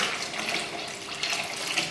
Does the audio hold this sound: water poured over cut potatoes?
yes